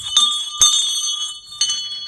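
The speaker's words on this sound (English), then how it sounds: "Some of them would have a bell like this, and it would ring like this." A handbell of the kind carried by an air raid warden, rung in three separate shakes that give bright, metallic peals with a lingering ring between them, close and alone.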